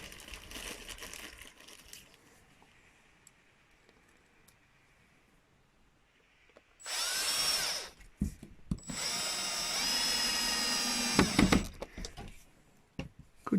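A power screwdriver drives screws into the window trim of a static caravan, with a short whirring burst followed by a longer, louder run after a pause, close and clear over a quiet background.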